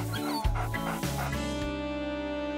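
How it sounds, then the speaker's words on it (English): A cartoon puppy from The Amazing Digital Circus gives a few short yipping barks followed by a thin, drawn-out whimper, set against a sustained musical background. "You have the cutest puppy"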